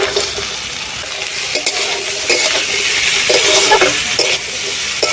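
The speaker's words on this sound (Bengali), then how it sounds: "আলুটা দিয়ে একটু নাড়াছাড়া করে দিয়ে দেবো" Chopped potatoes being stir-fried over onions and spices in a wok: a continuous close sizzle with repeated scraping strokes of a spatula against the pan, no voices.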